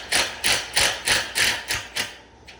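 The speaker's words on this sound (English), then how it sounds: "In each one of those locations, I'm going to back that fastener out about 1/2 inch" Seven evenly spaced bursts of a 3/8 driver backing chair fasteners out of a leg assembly, each a short whirring rattle that swells and fades, close and fairly loud, with no talking.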